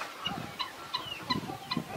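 Domestic chickens cluck nearby in a rhythmic series of short calls, about five or six bursts over two seconds, with no talking.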